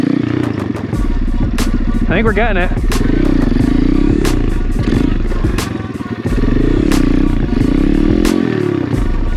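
An Apollo Amazon pit bike engine revs hard and drops during wheelie attempts. The small engine buzzes loudly and close in rising and falling surges, with a rider talking and shouting excitedly over it.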